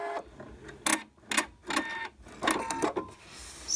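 A sewing machine stitches a zipper seam in short separate bursts of rapid mechanical clatter, close and fairly loud, with brief pauses between runs.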